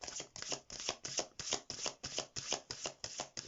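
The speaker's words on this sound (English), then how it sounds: "While I'm shuffling this deck" A deck of tarot cards being shuffled up close in a quick regular rhythm, about a dozen crisp riffling bursts, each rising then cutting off, with no talking.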